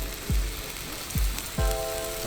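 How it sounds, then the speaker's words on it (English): Onions, slit green chilies and red shallots fry in a pan for a Kerala-style chicken stew, a constant close sizzle broken by three sharp clinks or taps of a utensil, with no talk. "So while the onions are frying,"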